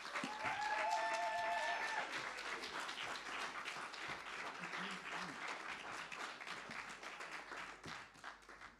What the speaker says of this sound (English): will you please put your hands together and welcome to the stage our first artist